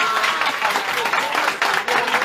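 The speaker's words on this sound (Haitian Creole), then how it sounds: "Applaudis, oui, applaudis." A crowd claps and cheers in continuous, dense applause at an outdoor street gathering, loud and close, with voices mixed through it for the full stretch.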